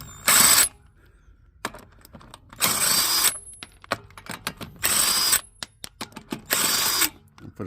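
Four bursts of ratcheting, clattering tool noise as lug nuts come off a 2014 GMC Terrain during a front and rear brake and rotor job, each burst about half a second to a second long, with small metallic clicks and taps between them and no talk.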